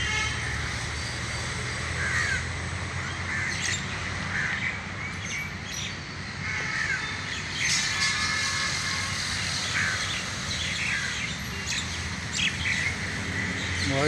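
Crows and pigeons in a garden in Ashok Vihar Phase III, with scattered caws and chirps ringing out at a moderate distance over a constant low rumble of background traffic.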